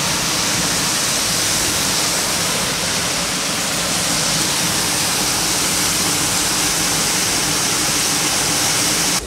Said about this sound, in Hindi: अभी चक्की चल रही है तो यहाँ से पानी आ रहा है।